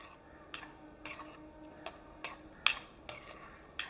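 Spoon clinking against a bowl while oats, green apple and chia seeds are mixed together, about eight sharp taps at a steady pace over a quiet background.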